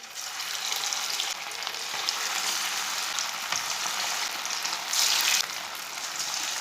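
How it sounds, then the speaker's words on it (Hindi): Fish pieces frying in hot oil for a Lahori fish fry, with a dense, even crackle that swells briefly near the end and no talk. "जो बचे हुए पीस हैं वो भी इसी तरह फ्राई कर लेंगे।"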